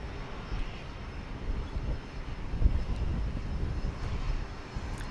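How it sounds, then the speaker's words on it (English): Boeing 737-700 airliner arriving at Dallas Love Field, a steady broad jet roar in the distance that swells slightly midway, with breezy outdoor air. "imminent arrival of flight 1194 from Washington National Airport in D.C."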